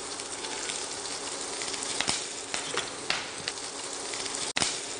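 Finely chopped green chillies fry in a pan of oil, giving a steady loud sizzle with crackling pops throughout and a brief dip near the end, no voices.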